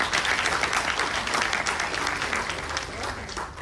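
Audience applause at a live evening music show, a dense, steady burst of clapping that fills the room at full loudness and holds for several seconds before easing slightly at the end, with no talk over it.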